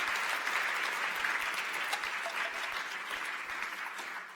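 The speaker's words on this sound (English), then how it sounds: "So can we please give a round of applause to thank our judges in advance for their work?" A round of applause from the audience at the FameLab UK 2016 final, honoring the judges, steady and even throughout, moderately distant, softening slightly toward the end.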